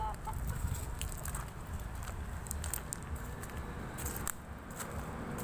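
Gamecocks in Bonbon, Oslob, Cebu give scattered soft clucks and faint calls, with a steady, busy outdoor din filling the background.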